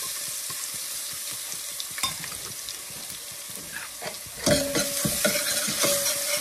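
Crushed garlic sizzles steadily in hot oil in a pan while being stirred for beetroot rasam, with close scraping strokes and a louder surge of crackling as more goes in partway through.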